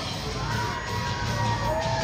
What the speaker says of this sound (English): I can hear someone screaming there.